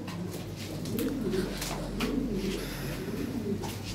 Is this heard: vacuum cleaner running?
no